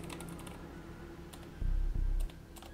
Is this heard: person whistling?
no